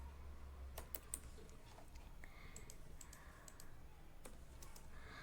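Keys being typed on a computer keyboard in quick irregular bursts of light clicks, close and fairly quiet over a low steady hum, with no talking.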